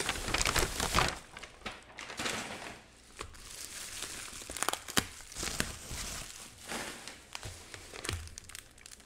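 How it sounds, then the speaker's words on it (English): Sheets of Japanese wrapping paper decorated with washi tape crinkle and rustle up close, in repeated handling bursts with brief soft pauses and no talking. "This wrapping paper with washi tape."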